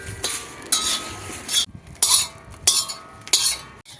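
A bay leaf roasting in hot oil in a pan for kala masala, heard as scraping and clinking of a metal spoon against the pan in short, repeated strokes with brief pauses between.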